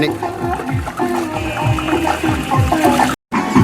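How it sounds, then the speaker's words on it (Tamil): Water pours from a can into a large biryani pot being filled with about 30 litres, a steady gushing splash heard under a man's speech, with a brief cut near the end. "இப்போ நான் 30 லிட்டர் தண்ணி சேர்த்துக்கிறேன்"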